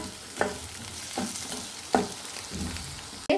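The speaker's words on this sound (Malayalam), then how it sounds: "ഞാനൊരു അഞ്ച് പച്ചമുളക് ചേർത്ത് കൊടുക്കുന്നുണ്ട് അതും കൂടെ നമുക്ക് വഴറ്റിയെടുക്കാം" Onions with five green chillies sautéing in a pan for an egg curry, giving a steady close sizzle broken by several distinct scraping stirs of a spatula at roughly even intervals, with no talking.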